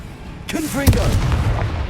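A Confringo blasting curse explodes in the video game Hogwarts Legacy, a single loud booming blast that lands right after a shouted spell voice and rumbles briefly.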